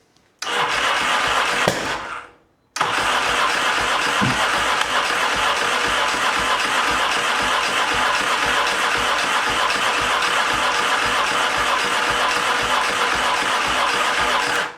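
Yamaha XS650 motorcycle engine, just after a carburetor rebuild and valve clearance work, cranks and catches, cuts out briefly after two seconds, then restarts and settles into a steady loud idle that runs without a break, with no speech.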